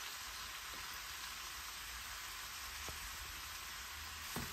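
Cooked, steamed leftover rice sizzles steadily in a hot frying pan for Korean-style fried rice, a continuous crackling hiss close by with faint stirring taps and no talking.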